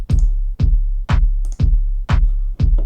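A Reason Redrum drum machine loop: a booming kick under a low sustained tone, with a sharp programmed clap landing on alternate beats, six loud evenly spaced hits at a steady tempo.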